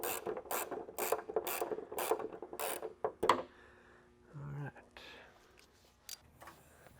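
A ratchet wrench snugging bolts on a rear wing being installed on a Nissan 370Z track car, a burst of rapid clicking strokes followed by quieter handling noises and a few isolated clicks.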